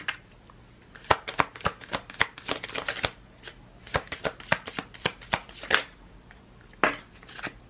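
Rapid crisp riffling and slapping of a Lenormand card deck being shuffled close up during a card reading, irregular bursts of sharp snaps with short pauses between.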